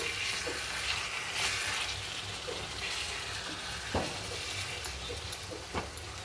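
Boal fish frying in a pan alongside cauliflower gives a steady, close sizzle and hiss throughout, with a few faint utensil clinks as the pieces are turned.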